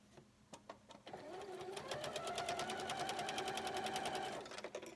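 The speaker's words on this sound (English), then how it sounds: "I'm going to bring them to my sewing machine and sew them." A sewing machine sewing quilt blocks starts up and runs in a fast, steady mechanical whir of rapid stitching, then slows and stops, with light handling clicks before and after.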